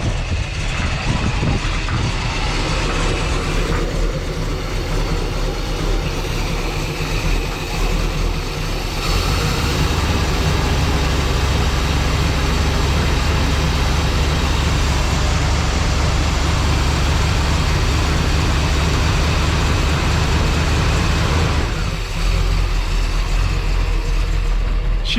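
A Can-Am off-road vehicle engine running steadily after starting, revved with a loud, sustained low rumble that surges and eases over about 25 seconds, close by with no talk.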